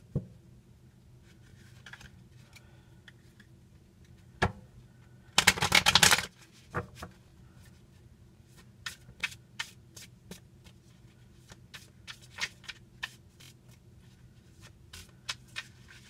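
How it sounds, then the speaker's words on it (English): A deck of tarot cards being shuffled, with a brief loud riffle burst near the start followed by a long run of soft, irregular card taps and slides, close and alone without talk. "This deck needs shuffled really well."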